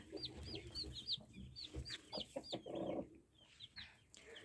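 Hens cluck and chicks peep in quick, uneven bursts, close by, with soft rustling between calls and no talking.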